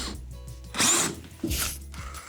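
A power drill fitted with a 12.5mm bit bores a hole while installing off-road lights on an ATV, heard as a loud burst of whirring and grinding near the middle, then a second shorter pass after a pause.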